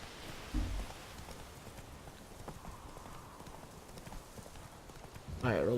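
Horse hooves in The Witcher 3: Wild Hunt, a faint, quick clip-clop under game ambience, with soft rain-like noise and short thumps near the start and end.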